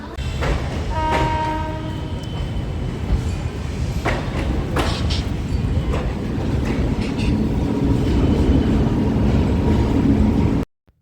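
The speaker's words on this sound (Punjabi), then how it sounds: "ਟ੍ਰੇਨ ਆਪਣੀ ਨਿਕਲ ਗਈ ਆ ਬਾਈ" A train rumbles along steadily with rattling wheels and clacking, a horn sounding early on, continuous and close, then cutting off abruptly.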